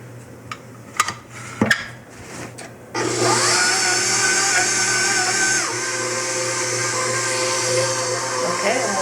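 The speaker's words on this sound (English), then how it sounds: "I'm going to put my kneading utility on my machine and just knead this for a good 10 minutes" A stand mixer with a kneading hook works soft white bread dough, starting after a few handling knocks and then running as a loud, steady motor whir that dips slightly midway.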